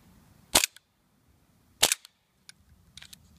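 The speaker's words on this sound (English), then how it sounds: "Oh, that actually shot a few rounds." A gas-powered 3D-printed 1911 replica pistol fires two sharp, close pops about a second apart, each followed by a short mechanical clack, then a few fainter clicks.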